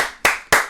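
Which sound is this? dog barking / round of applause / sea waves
round of applause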